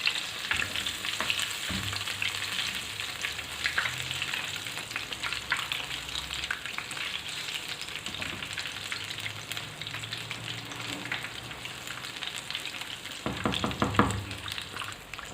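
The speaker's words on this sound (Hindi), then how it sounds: "बस इनको अब अच्छी तरह से हम इसके अंदर फ्राई कर लेंगे।" Eggs coated in gram flour fry in hot oil, giving a steady close sizzle and crackle throughout, with occasional louder bursts of spatter and stirring noises and no talk.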